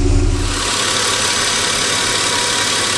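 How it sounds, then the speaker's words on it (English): A Chrysler 2.7 L engine idling steadily after a clean start, a loud, even broadband running drone close to the mic with a brief heavier rumble at the very start and no voices. "Starts perfect. Runs on all cylinders."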